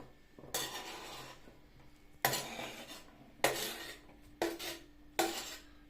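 Fried chicken hearts tipped into a salad bowl with fried onion, landing in several separate clattering bursts of scraping and tumbling against the bowl, close and fairly loud, no talk.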